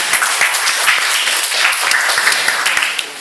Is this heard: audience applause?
yes